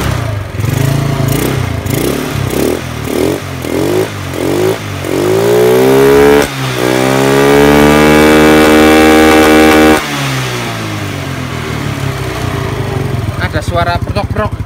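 A Yamaha Mio Sporty scooter engine running close by, first pulsing in repeated throttle blips, then revving up to a long sustained high pitch before dropping back to idle.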